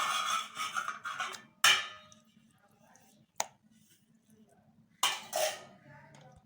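One kilogram of chicken pieces with deep cuts is mixed with spices and yogurt in a bowl for tandoori chicken, making three short bursts of wet squelching and clattering against the bowl separated by quiet gaps.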